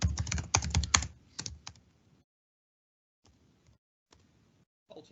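Bursts of keystrokes on a computer keyboard during work in Microsoft Teams, a rapid cluster of close, crisp clicks in the first two seconds, then a few sparse, faint taps after a pause.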